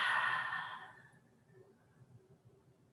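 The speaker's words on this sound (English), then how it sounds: "Take a nice deep breath" A single deep breath taken during a guided meditation, a loud breathy inhale or sigh at the start that fades away within a second into quiet room tone.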